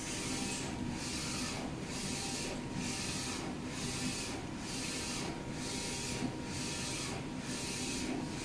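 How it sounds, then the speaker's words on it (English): A Hoson DTF printer running a test print, its print head sweeping back and forth in a steady, even rhythm of whooshing passes about once a second, with continuous mechanical hiss underneath. "here we can choose for pause or cancel the printing process"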